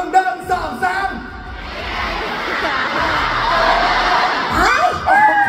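Audience at a BABYMONSTER fan event shouting a cheer in unison, a swelling roar of many voices that builds after a short spoken lead-in and fades as talking resumes.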